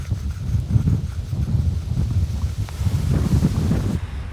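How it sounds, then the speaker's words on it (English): Strong wind gusts across the microphone beside Island Lake in the Ruby Mountains, a steady low roar with rustling and buffeting that persists throughout, close and loud, with no voices. "It's gotten really windy."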